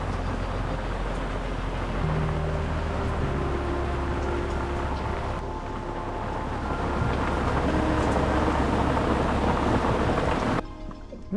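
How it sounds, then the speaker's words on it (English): Hard tropical rainstorm pouring onto a sailboat in Fiji's Yasawa Islands. The rain is a loud, unbroken roar with rumbling low end throughout, then drops off abruptly just before the end. "It was a pretty hard rainstorm."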